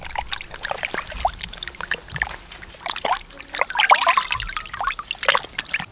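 Water runs and trickles over a gutted, cleaned-out skunk carcass during rinsing, close up, with irregular splashes and dribbles lasting throughout and no voices.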